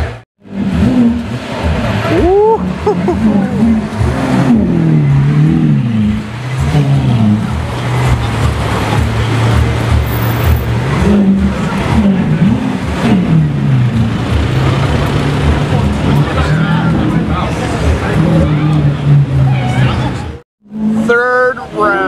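A DMC-kitted Lamborghini Aventador supercar revs up close in a series of loud, rising and falling engine blips. Its roar fills most of the clip, with background crowd noise and a brief drop near the end.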